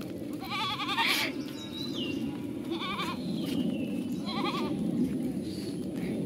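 A herd of goats out on a walk, several bleats rising over a steady outdoor rumble of movement, with a few bird chirps faintly behind.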